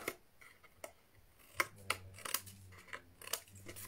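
Scissors snip around the edge of a paper butterfly card, a series of crisp close cuts in irregular rhythm with short pauses, heard alone.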